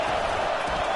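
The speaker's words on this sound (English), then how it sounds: "It is getting loud as this crowd tries to help its defense" Roaring college football stadium crowd building in volume to back its defense, a dense, loud wall of cheering and noise filling the entire moment.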